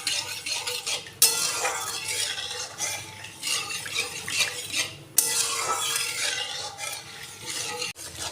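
Milk being stirred in a kadai as it thickens, a utensil scraping steadily around the pan with soft clinks and a faint sizzle underneath, close and continuous for several seconds with brief sharp knocks; no talking.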